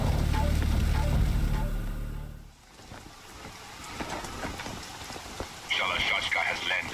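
Rain falling in the video game Metal Gear Solid 2, a steady hiss that follows a loud low rumble which cuts out early, then continues at moderate level with a bright tonal sound near the end.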